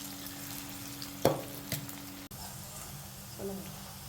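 Ivy gourd pieces shallow-frying in a little oil give a faint, steady sizzle, broken by a couple of sharp utensil clinks against the pan.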